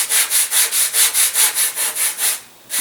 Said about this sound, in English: very lightly with sanding block